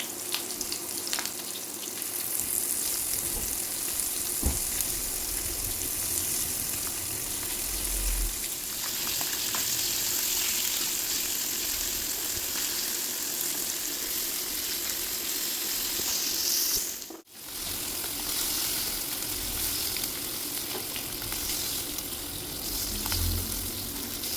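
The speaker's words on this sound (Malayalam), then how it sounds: "മീൻ പൊരിക്കാൻ ഇട്ട് കൊടുക്കാം." Fish frying in hot coconut oil in a pan gives a loud, continuous sizzle that lasts throughout, with one brief dip near the end.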